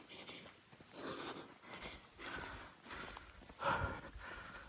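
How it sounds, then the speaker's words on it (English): Heavy, labored breaths while hiking uphill in Mountain Springs, Jamaica come in rhythmic bursts, some sharp and snorting, with faint rustling and steps underneath. "Y'all on the camera are probably hearing some heavy breathing right about now"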